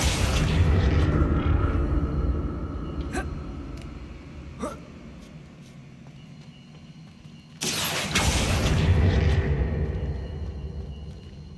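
A Confringo fire spell goes off in the Hogwarts Legacy video game, a sudden heavy blast that bursts out partway through over a low rumbling game backdrop with a few faint clicks before it.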